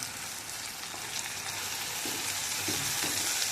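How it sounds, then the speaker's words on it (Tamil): Tomatoes and green chillies sautéing in a pan for a Salem-style kara kuzhambu, with a steady close sizzle and a few soft stirring scrapes breaking through toward the end. "தக்காளி நல்லா வதங்கணும்"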